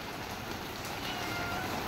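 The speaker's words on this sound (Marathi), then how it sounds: "पाऊस लागतोय तुला खूप?" Rain falls steadily as a continuous, even hiss with no breaks or voices, fairly close.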